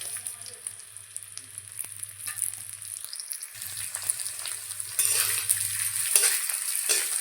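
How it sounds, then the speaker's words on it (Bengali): Moong dal frying in a pan for a vegetarian ash gourd ghonto, a continuous soft sizzle with stirring scrapes that grows louder and brighter toward the end, no voices. "মুগ ডাল ভেজে নেব।"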